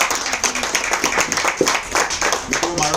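Audience at a business meeting clapping for honoured members, a burst of scattered hand claps with a voice talking over them.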